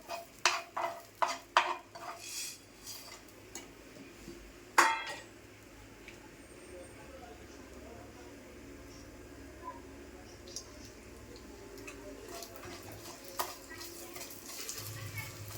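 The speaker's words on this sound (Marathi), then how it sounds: "आता ही सुद्धा मी भाजून घेणार आहे त्याच्याबरोबरच" Whole cinnamon, coriander, fennel, cloves and black cardamom are dry-roasted in a pan for Malvani chicken rassa, with sharp clinks and scrapes of a spoon at first, then soft faint stirring.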